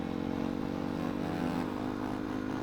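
A motorcycle ridden on a road between Bhairahawa and Butwal hums with a steady, rhythmic engine putter that rises slightly in pitch, close and continuous without talk.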